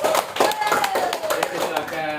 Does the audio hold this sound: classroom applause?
yes